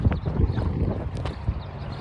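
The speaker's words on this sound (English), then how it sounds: "we're trying to say what we got to say in between the gusts of wind" Gusty outdoor wind buffets the microphone with a steady low rumble that swells and dips over two seconds, alone with no talking.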